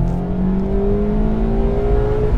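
A sports car engine revving hard after a downshift into second gear at about 40 km/h and 3500 rpm, a loud, close, steady rising whine with strong harmonic tones and no talking.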